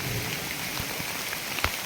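Monsoon rain falls steadily in the Konkan countryside, a continuous dense hiss of drops on surfaces with a few slightly louder spatters, close and even throughout, with no voices.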